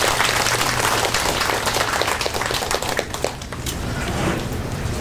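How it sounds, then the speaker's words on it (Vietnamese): Audience applause at a Buddhist temple ceremony celebrating Vesak in Santa Ana, a dense steady patter of many hands clapping throughout, fairly loud and continuous with no talk. "Xin cảm ơn quý vị cho một tràng pháo tay."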